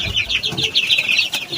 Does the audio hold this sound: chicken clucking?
yes